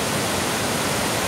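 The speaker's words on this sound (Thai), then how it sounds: "อันนี้ความงดงามของชั้นล่างสุดนะครับน้ำตกแก่ง โสภาแห่งนี้นะครับ" Kaeng Sopha waterfall's lowest tier pours in a steady, dense broadband roar of rushing water, close and loud with no break for the whole moment.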